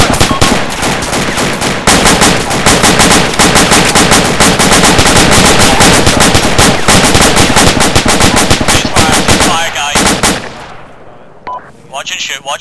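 Dense, sustained automatic gunfire from a squad firefight in a military game, near and very loud with rapid overlapping bursts, then thinning to scattered shots and quieter moments near the end.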